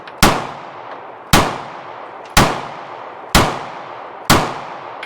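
Five sharp pistol shots from a Walther PPS M2 9mm fed from a 6-round magazine, fired at a steady pace about one second apart, each loud crack trailing off in a short ringing decay, with no talking.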